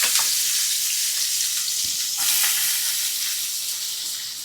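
Onion and tomato frying in hot oil in a pan for dal khichdi, a continuous bright sizzle with a few soft stirring knocks, close and steady throughout.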